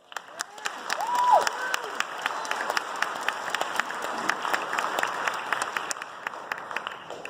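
An audience applauds at a high school fall sports awards night, a dense, steady clapping from a crowd with a few whoops, filling the room and continuing throughout.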